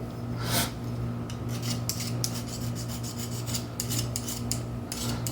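Metal file rasping sharp edges flat to remove burrs, a steady continuous scraping with rhythmic strokes, close and loud throughout with no talking.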